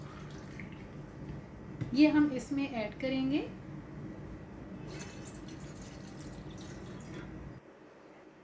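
Two cups of water poured into a pot for making semolina halwa, a soft, steady pour heard after a short spoken line and running for several seconds before stopping.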